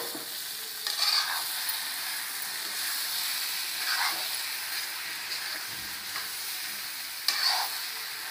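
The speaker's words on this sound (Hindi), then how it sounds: "आइए अब इसे हम चला देते हैं।" Methi aloo sabzi made with new potatoes cooks in a pan with a soft, continuous hiss. A few spaced, faint scraping stirs rise above the hiss.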